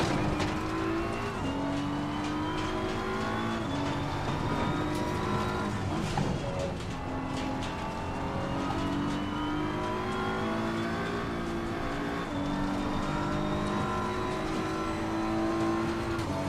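BMW race car in Assetto Corsa Competizione, its engine droning loud and steady as it climbs and drops through the gears, the pitch rising and falling across a long run with faint tyre noise beneath.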